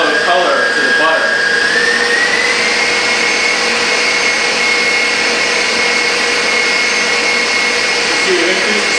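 A butter-making machine churns cream into butter with vivid yellow color from the animals' diet, running as a steady loud whir with a rising motor tone early on, constant throughout.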